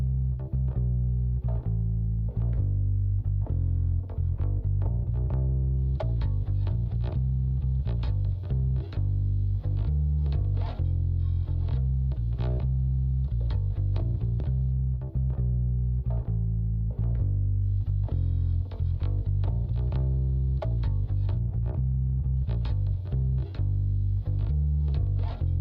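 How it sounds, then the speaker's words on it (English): Gritty bass line with bass distortion and a bright, boosted top end, playing continuously and loud with a steady rhythmic pulse for the whole stretch. "listen before and after this top end boost"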